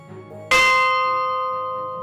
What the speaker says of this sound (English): This is the bell from the original fire station that was behind the current town hall.